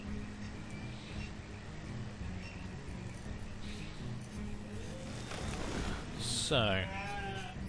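Sheep bleat in Banished, a medieval town-building game, with a short wavering bleat standing out near the end over a steady game ambience while someone talks.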